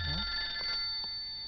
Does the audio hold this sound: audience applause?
no